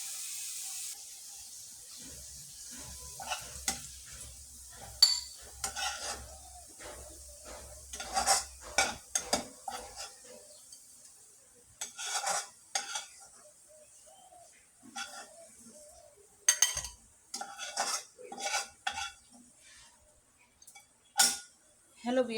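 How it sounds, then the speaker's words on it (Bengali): Fried onions being lifted out of a pan while cooking biryani, with a run of sharp metallic scrapes and clinks of a utensil against the pan, irregular and close, over a low hum at the start. "আমার পেঁয়াজ ভাজাটা হয়ে গেছে, প্রায় লাল লাল হয়ে গেছে। এটা এখন আমি উঠিয়ে নেব।"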